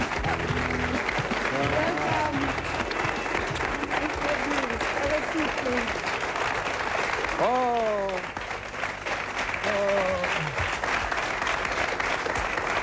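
Studio audience applause at a French celebrity TV show, sustained loud clapping from a crowd that continues throughout, with a voice and some musical tones heard over it.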